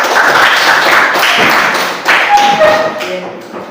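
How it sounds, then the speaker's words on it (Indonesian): Students in an Indonesian classroom clap for a group after its presentation, a short burst of loud close hand claps that swells twice and then fades out, with a few voices over it. "Sekali lagi beri tepuk tangan."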